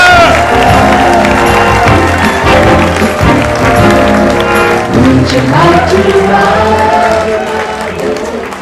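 A comedy club audience cheers and applauds as comedian Cynthia Hebert takes the stage, a loud, dense burst of clapping and whoops that carries on throughout and gently fades near the end, with voices mixed in.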